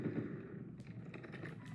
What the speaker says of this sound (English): we slowly back away from that gunfire